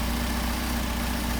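A car engine fitted with Solex 44PHH carburetors runs at a steady, even pace, a close, continuous low drone with no pauses or talk.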